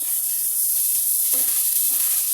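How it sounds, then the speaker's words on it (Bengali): Chopped onions fry in leftover egg-frying oil with chili paste and ginger-garlic paste, a steady close hiss and sizzle that stays even throughout, with a faint stir or tap partway in. "ডিম ভাজার তেলের মধ্যে দিয়ে দিচ্ছি আগে থেকে কাটা পেঁয়াজ কুচিগুলো। এগুলো ভালোভাবে ভেজে নেব।"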